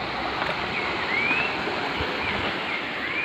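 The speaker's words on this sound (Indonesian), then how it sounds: "Dan ini ada air mengalir nih." Water flowing steadily through a stream beside green forest and farmland, a constant broadband rush close by with no voices over it.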